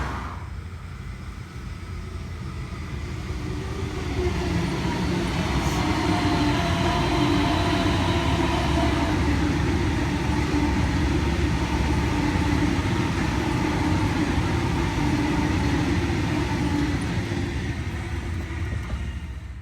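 A modern Sydney train in a country area passes at speed with a broad, steady rumble that swells and holds for many seconds before easing slightly.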